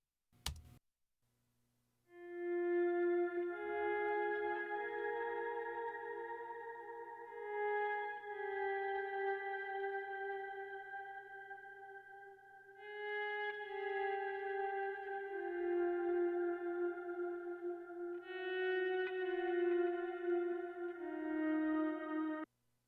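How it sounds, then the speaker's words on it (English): A Stratocaster electric guitar with a squishy, compressed tone plays clean sustained chords and melodic lines in a studio mix, steady and alone without any talking. "Really great strat, like squishy compressed sound."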